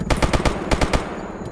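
Rifle gunfire in the video game Escape From Pripyat: a rapid burst of about five shots, a short pause, then three more, loud and close, with no talking.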